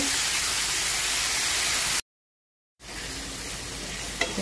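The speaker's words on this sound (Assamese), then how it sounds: "এতিয়া গোটেইখিনি মছলা মাছৰ তেল মিক্স কৰি" Spices are stirred into fish oil in a pan, giving a dense, close, steady sizzle and frying hiss with stirring. The sound cuts out briefly partway through and then returns at a slightly lower level.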